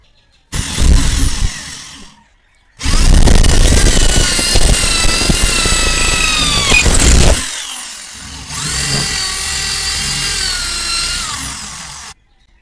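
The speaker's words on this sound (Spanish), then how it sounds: "acabo yo de barrenar 2 orificios" Power drill boring holes with a bit for gas grill valves: a loud, close, whining drill run that stops briefly, then a long high-speed burst and, after a short pause, a steadier, slightly softer drilling stretch.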